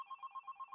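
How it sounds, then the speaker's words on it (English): A telephone rings with a rapid electronic warble, six evenly spaced pulses in under a second, faint and alone. "Hold on. I got a phone call."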